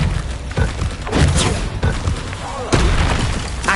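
Confringo fire-blast spell explosions in the video game Hogwarts Legacy, several booming thuds repeating through dense, loud game combat noise.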